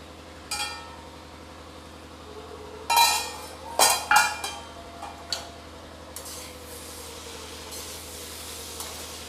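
Vegetables for paneer bhurji cook in a pan over a medium-to-low flame, giving a soft, steady sizzle broken by a few sharp clinks and scrapes of a spoon stirring midway.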